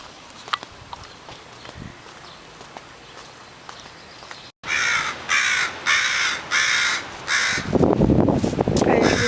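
Several crows caw loudly in a rhythmic series of harsh calls outdoors around sunrise, after a quieter stretch with light footsteps and scattered ambient sounds.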